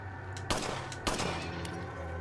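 Two sharp gunshots crack about half a second apart in the video game Resident Evil 4, standing out over a steady background of game ambience.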